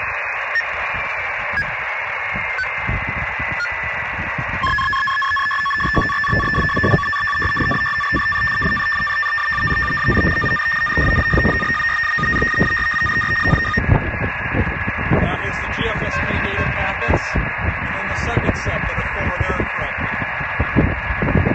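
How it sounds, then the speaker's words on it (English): Steady RTTY radio carrier tones, a pair of sustained pitches that shift to a higher stacked set midway, over constant static and crackle. "We'll start hearing the carrier tones here shortly."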